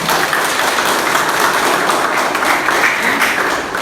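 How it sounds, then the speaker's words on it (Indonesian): A class in an Indonesian nursing lecture bursts into loud, close hand clapping, a continuous dense patter lasting a few seconds. "Nah, tepuk tangan."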